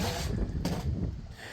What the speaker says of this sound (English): And a lot of wind. Very windy day.